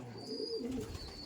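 Andhra Madrasi pigeons give a soft, low coo, faint and close, over a quiet room background.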